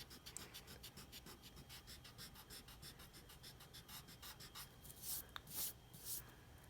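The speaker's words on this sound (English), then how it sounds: "you can erase these little trailing lines that you don't need anymore" An eraser rubs out pencil lines on paper in quick, faint, rhythmic back-and-forth strokes, growing a little louder and scratchier near the end.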